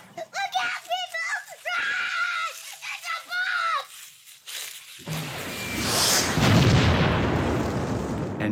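An explosion goes off in a home movie. Children's voices and shouting come first, then a loud, broad blast bursts in and rumbles on without a break to the end.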